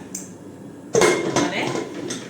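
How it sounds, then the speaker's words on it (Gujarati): A pressure cooker lid is shut on a pot of khichdi, giving a loud metallic clank followed by a few lighter clinks and a rattle of the metal cookware close by. "ચાલો હવે આપણે કુકરને કરી દઈએ બંધ"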